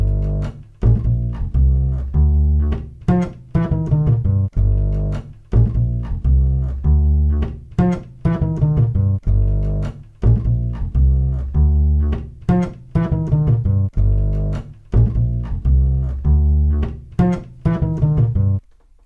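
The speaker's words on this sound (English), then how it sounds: "And now the very cool double bass." A double bass plays a deep, resonant line of repeated bowed or plucked notes in a steady rhythm, loud and close throughout with no talking.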